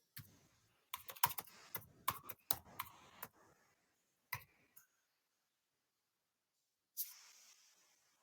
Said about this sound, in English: let me type in my password